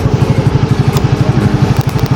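A motorcycle engine running while riding, a loud, close, rapid pulsing throb with an even rhythm that holds steady throughout, with no talking.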